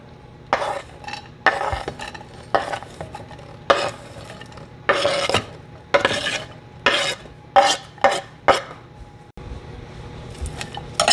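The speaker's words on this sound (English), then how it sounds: "We're going to melt some butter. We're going to throw our onions right in." Onions cooking in melted butter in a pan for tomato sauce, heard as a series of short, scraping stirring strokes in an irregular rhythm over a low, faint sizzle, close by and without talk.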